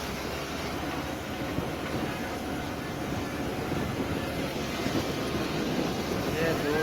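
A small ferry boat crosses Dubai Creek with a steady, rumbling engine drone and the rush of water and wind, continuous and fairly loud throughout.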